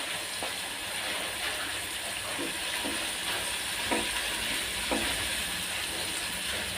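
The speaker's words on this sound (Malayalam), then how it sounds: "വേപ്പിലിട്ട് കൊടുക്കാം" Curry leaves hitting hot oil in a pan while cooking chicken pola give a steady, close sizzle with scattered sharp crackles throughout, no voices.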